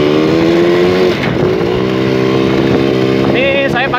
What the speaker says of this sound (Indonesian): Ini saya pakai motor Yamaha V75 dengan warna red Ferrari.